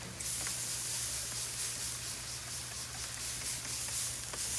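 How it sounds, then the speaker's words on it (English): Spray bottle misting white wine onto a hot grill, a steady close hiss of spray and sizzle lasting several seconds over a low hum. "you're gonna wanna add a little bit of white wine. I like to put in a spray bottle."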